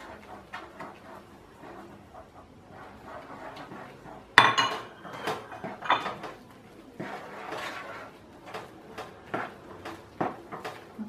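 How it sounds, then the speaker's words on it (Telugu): Rice flour batter for chakodilu being stirred in a bowl: soft scraping and intermittent clinks of utensil against the bowl, with one sharper knock partway through and a busy run of close clatter after it. "ఉండలు లేకుండా చక్కగా ఇలా కలిపేసుకోవాలి."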